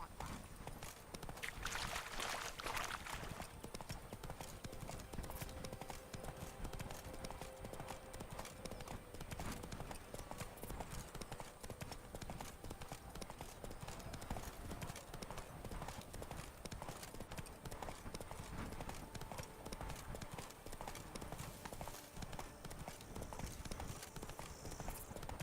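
The horse Roach gallops, its hooves beating a quick, steady clip-clop rhythm that runs unbroken for the whole stretch, faint and somewhat distant beneath a broad background hiss.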